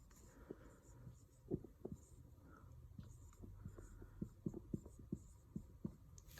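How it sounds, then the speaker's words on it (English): A pencil scratches on notebook paper in short, soft strokes and taps, faint and close, with low room murmur behind. "I'd like for you to write your name"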